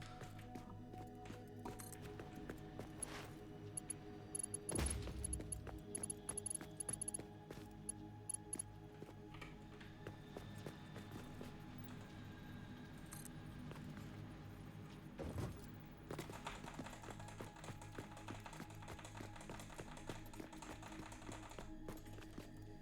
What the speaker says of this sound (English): you can probably hear me just spamming my keyboard